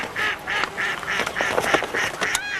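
Wildfowl call repeatedly at a wetland reserve, a rapid run of loud nasal quacks and honks close by, several birds overlapping.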